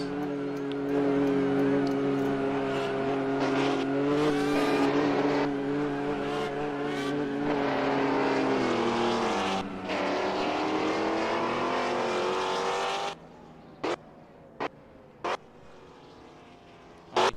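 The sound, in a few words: McLaren F1 race car engine in GT1 historic race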